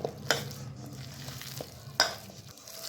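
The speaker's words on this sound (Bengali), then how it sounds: "শাকটা আগে দিয়ে আমি মেখে নিলাম" Bathua greens pakora batter with ginger-garlic paste being mixed by hand in a bowl, soft close squelching and stirring with two sharper clinks against the bowl, no talk.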